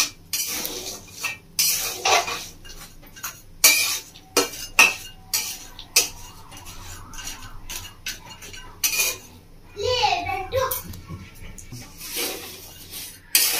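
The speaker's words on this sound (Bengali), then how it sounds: "কাজুগুলো দিয়ে এইভাবে লবণের সাথে নেবো।" Cashews tossed with salt in a dry pan give off scattered scraping and rattling stirs, uneven bursts of clatter over several seconds, fairly close and with no talking over them.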